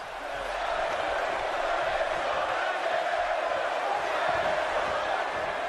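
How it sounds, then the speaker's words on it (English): A virtual arena crowd roars steadily during a wrestling match in WWE 2K17, a continuous loud wash of cheering and crowd noise with no distinct breaks throughout. "And you can hear the crowd."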